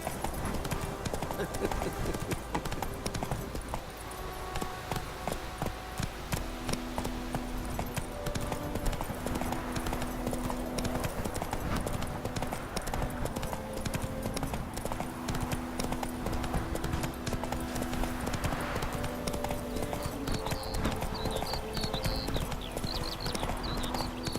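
Horse hooves clip-clopping in The Hunt, an Xbox One game, a steady close rhythm of hoof beats running under background game music and effects, with a voice speaking briefly.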